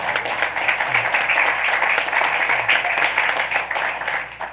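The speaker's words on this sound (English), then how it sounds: "let's clap for" Audience at a school board meeting claps for a teacher's award, a steady burst of hand clapping from a room of people lasting several seconds.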